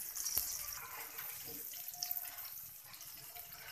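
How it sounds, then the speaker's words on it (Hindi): Green chillies with about half a teaspoon of cumin sizzle and spit steadily in a covered pan, a continuous moderate hiss of frying oil with small crackles, heard alone. "मिर्चें फ्राई होने लग गई हैं"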